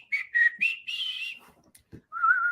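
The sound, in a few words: person whistling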